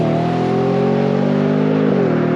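A Ford F-150 Raptor R truck accelerates with a loud, close engine roar that holds steady and climbs in pitch, then dips briefly near the end, with no talking.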